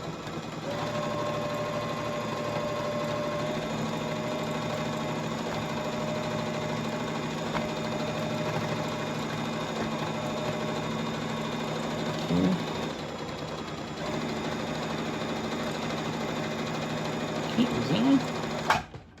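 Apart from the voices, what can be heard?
sewing machine stitching crash bag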